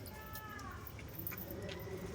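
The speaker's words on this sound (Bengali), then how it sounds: "আর এই যেই সাদা পায়রাটা, এটা ওই ছাইখোরেরই বাচ্চা।" Pet pigeons, including a white one, cooing softly in a home loft, low murmuring coos under faint background noise, with a few light ticks and no talking.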